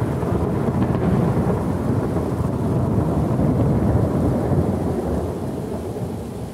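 A heavy thunderstorm with a loud, continuous roll of thunder over steady pouring rain, dense and close throughout with no pauses.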